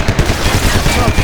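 Gunfire in Max Payne 3 gives a loud, dense burst of rapid shots in quick succession, close and continuous, with a shouting voice mixed in.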